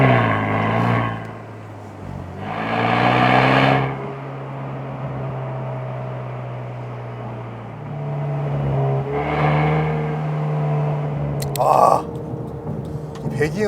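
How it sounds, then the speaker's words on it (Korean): A seventh-generation Ford Mustang EcoBoost with the 2.3-litre four-cylinder and track exhaust, deep throaty revs swelling and falling in several bursts, with a voice talking between them. "이 배기음 하나가 정말 4기통이라고 생각되지 않을 정도로 묵직한 배기음을 냅니다"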